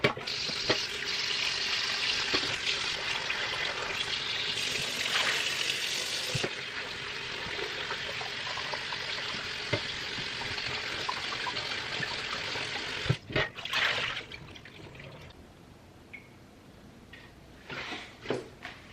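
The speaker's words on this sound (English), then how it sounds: "We have the oxtail rinsed and cleaned up" Oxtail is rinsed under a running kitchen tap, giving a steady, close rush of water for about thirteen seconds before it stops, followed by a few scattered splashes and drips.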